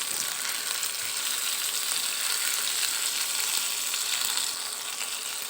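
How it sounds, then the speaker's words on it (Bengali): A steady, close sizzle of ginger, garlic, cumin paste and spices frying in a pan, with faint stirring throughout and no talk. "এগুলো এখন আমি এটার মধ্যে দিয়ে দেব দিয়ে কাঁচা গন্ধটা যাওয়া অবধি একটু নেড়ে চেড়ে নেব"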